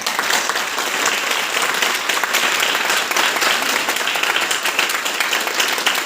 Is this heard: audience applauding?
yes